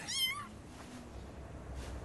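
A cat gives a single short meow near the start, then only quiet room background follows.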